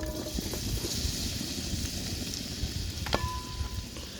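Onions going into a hot pan for a Durban crab curry set off a steady, dense sizzle that holds close and fairly loud throughout, with a faint clink partway through.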